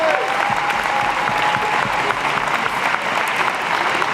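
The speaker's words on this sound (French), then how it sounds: "on peut les applaudir" A crowd at a united-left municipal election rally in Brest breaks into loud, sustained applause, the thick clapping holding steady throughout, with a faint tone briefly audible near the start.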